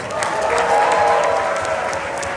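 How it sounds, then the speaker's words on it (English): Audience applause at a Fanatics Fest fan event in New York City, a steady wash of clapping with a few cheers mixed in, moderately loud and continuous for a couple of seconds. "Give yourself a round of applause."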